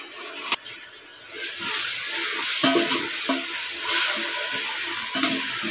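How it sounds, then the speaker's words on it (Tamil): Tomatoes sautéing with onions, coriander and mint in a pot for white khushka rice, a steady close sizzle and hiss broken by repeated stirring scrapes, no talk. "தக்காளி நல்லா மக்கிற வரைக்கும் வதக்கணும்."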